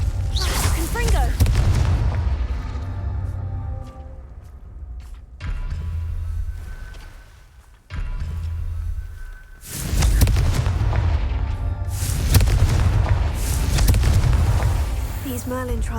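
Fire-spell explosions in the Hogwarts Legacy game on PS5 go off as heavy booming bursts in several waves, loud and close, each rumbling blast trailing off between hits.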